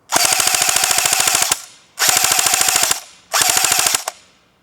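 An AGM MP40 airsoft gun fires three loud, close full-auto bursts from a mid-cap magazine, each a rapid even rattle of shots lasting about a second, split by short pauses.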